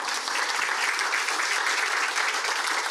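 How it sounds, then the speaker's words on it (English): Sustained crowd applause for Miss Sophie at a Georgia Southern press conference introducing head coach Chad Lunsford, an even, thick wash of clapping from start to finish with no talk on top. "stand up, you get a round of applause too."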